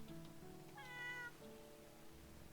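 A cat in the video game Little Witch in the Woods gives a single clear meow, faint and alone over a soft musical background.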